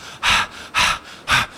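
A voice imitates panting breath with three loud, breathy gasps at an even pace, each separated by a brief quiet pause.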